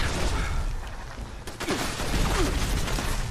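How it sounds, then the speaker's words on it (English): Dense explosions and gunfire in the PC video game Fallout 76 during player-versus-player combat, a continuous loud rumbling barrage with sharp bursts throughout. "All these explosions, is it too loud?"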